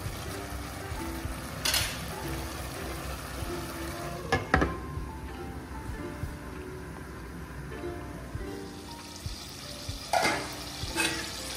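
Mangalore-style pork roast cooks in a pan over a medium flame, a steady soft sizzle and bubble running throughout, with a few clinks of a spoon stirring against the pan.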